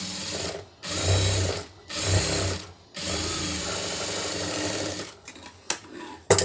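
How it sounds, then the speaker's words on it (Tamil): A sewing machine stitches along a turned, folded fabric edge at a tailoring class, running in three loud, close bursts separated by short pauses, followed by a few faint clicks and handling noises. "திருப்பிட்டு இதில் வந்து ஒரு தையல் போட்டுருங்க"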